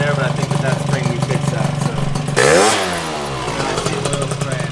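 A 72cc Honda Elite Dio scooter with a Polini Corsa kit and Arrow exhaust pipe idles close by, then snaps into one sharp rev that climbs and falls back to idle.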